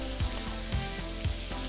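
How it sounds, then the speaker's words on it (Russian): Chopped onions and browned chicken sizzle steadily in a pan over high heat, with soft periodic scraping of a utensil stirring, close and continuous with no talk. "добавляем к ней репчатый лук"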